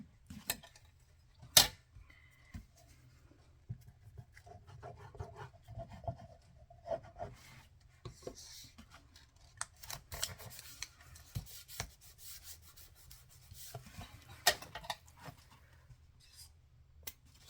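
Scissors snip through paper in a run of close, crisp cuts with irregular rhythm, part of hand-making a retro cooking journal at a table, with soft rubbing and handling between cuts and no talking.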